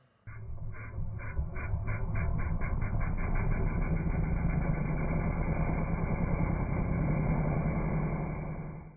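A motorcycle engine fitted with a CV carburetor catches and runs loud and close, with quick throttle blips over a steady rumbling idle that pulses throughout, and no voices.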